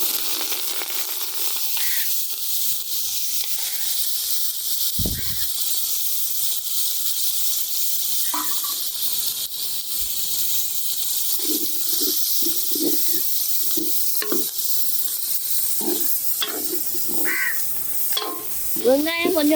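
Onions and curry chilies fry in a pan for a Jaffna fish curry, a steady sizzle joined by stirring scrapes and clatter that grow busier toward the end, with birds calling outdoors in the background.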